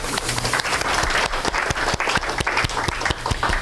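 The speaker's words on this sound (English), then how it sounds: "Can I have a round of applause for my audience?" An audience at a visitor center talk on the Mount St. Helens eruption applauds, a steady, dense clapping with a few sharper individual claps standing out, fairly even for several seconds.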